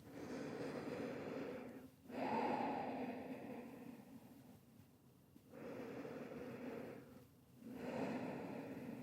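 Slow, deep breaths during a yoga child's pose: about three quiet inhale-exhale cycles, with soft airy rushes separated by brief pauses, heard close but faint and without speech.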